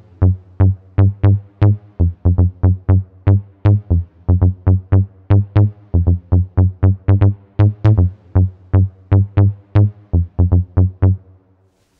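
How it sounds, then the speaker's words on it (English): A synth in Logic Pro with velocity mapped to pitch, run through a Quantec room simulator reverb, plays a fast rhythmic run of loud plucky notes, each with a brief pitch spike at the attack and a short roomy tail. "I'm just going to put the Quantec room simulator on this sound"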